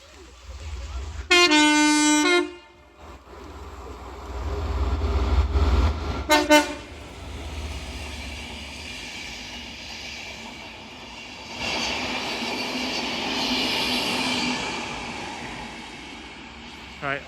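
A train led by a driving van trailer passes Nantwich level crossing in Cheshire, opening with a loud two-tone horn blast, then a short second toot and a long rumbling, rushing pass of the carriages, with a voice talking briefly over it.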